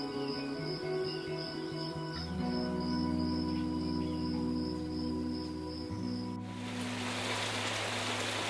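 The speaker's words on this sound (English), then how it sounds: "It's raining." Rain falls steadily in the Ecuadorian rainforest, a dense wash of drops layered over loud, continuous insect and cricket-like chirring that stays constant throughout, with no voices.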